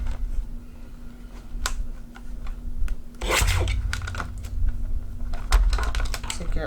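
A journaling card is cut down by hand, giving scattered crisp snips and scraping rasps with one longer rough burst partway through, close to the mic over a low fan hum, with no talking.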